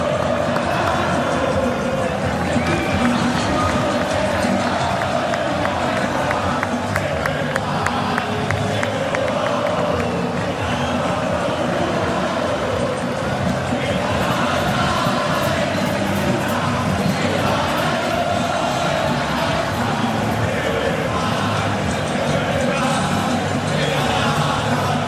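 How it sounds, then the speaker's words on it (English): Football crowd at an Argentina versus Switzerland match roaring and cheering for the Argentina team, a dense, loud, continuous stadium wash of voices with occasional whoops and claps, steady throughout. "Have a little watch and a listen to this crowd responding to that Argentina team on the pitch"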